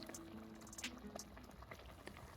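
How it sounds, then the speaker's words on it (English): Water boiling uncovered in a saucepan with basmati rice over medium heat on a stovetop, a close, steady bubbling and popping hiss with small crackles throughout, no talk. "After a couple of minutes, the water will start to boil"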